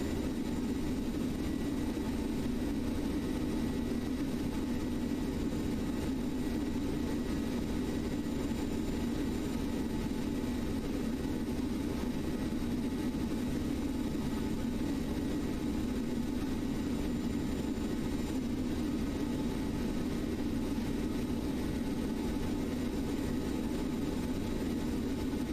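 Aircraft engines roar at full takeoff thrust during a simulated flight, a steady, loud, unbroken low drone with whining overtones lasting the whole stretch.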